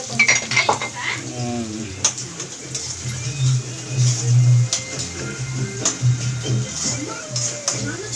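Onions with salt are mixed in a pan, the spoon clinking and scraping against the metal in irregular taps over a low background hum, with some talk in the room.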